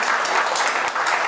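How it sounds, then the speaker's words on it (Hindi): Audience at a poetry open mic clapping loudly, a short burst of dense, close applause that holds steady with no talk over it. "इनके लिए एक बार ज़ोरदार तालियां हो जाएं"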